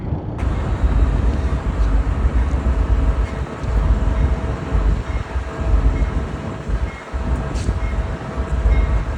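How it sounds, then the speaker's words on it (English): The northbound Amtrak Texas Eagle, train 22, rolls into Fort Worth station with a steady low rumble and rail noise, loud and continuous, and a faint squeal partway through. "Northbound, train number 22, the Texas Eagle, to Chicago, just now arriving in Fort Worth"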